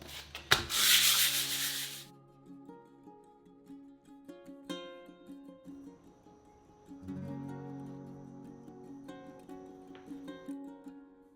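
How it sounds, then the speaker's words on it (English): Sanding a non-porous countertop surface to rough it up before bonding; a burst of loud abrasive rubbing at the start, then quieter intermittent scuffs and handling knocks nearby. "I'm just gonna sand the surface to rough it up a little bit."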